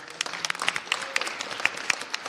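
Scattered applause from an audience at a mayoral program launch, sparse distinct hand claps in an uneven rhythm, moderately close and not very dense.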